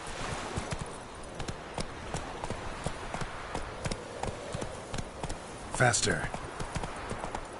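A horse gallops in the Witcher 3 video game, rhythmic hoofbeats clip-clopping quickly and evenly throughout, with a brief voice and a sharp bright game sound near the end.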